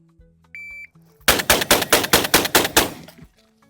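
A Beretta 1301 Tactical semi-automatic 12 gauge shotgun fires a rapid string of about eight to nine loud blasts in even rhythm, preceded by a shot-timer beep and faint range noise.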